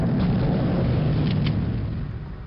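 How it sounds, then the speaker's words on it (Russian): A loud, sustained low rumble from a blast in the video game Soldier of Fortune, heavy and continuous for about two seconds before easing off slightly, with no voices over it. "Что-то где-то очень сильно взрывается."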